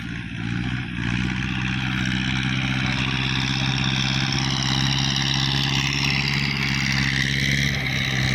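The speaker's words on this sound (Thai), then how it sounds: "ไอ้รถไถปั้นอยู่" A rice-paddy tractor's engine runs steadily and loud throughout, a continuous mid-pitched drone with a low rumble while it works a flooded field.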